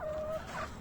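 A short, faint turkey gobble, a quick warbling call from a single bird, heard at a slight distance.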